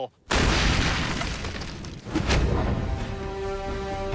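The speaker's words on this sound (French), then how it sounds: "Je ne m'attendais pas à une telle explosion." A Panzerfaust anti-tank round detonates with a sudden loud boom, followed by a long, rolling roar of blast and debris.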